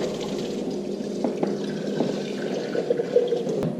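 Running water splashes steadily while canning jars are washed in hot soapy water. Soft clinks and small splashes break through the gentle, constant flow now and then.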